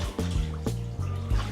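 Water trickles and laps gently around a basket boat floating through a coconut forest near Hoi An, a soft, close, uneven gurgle with small rhythmic pulses.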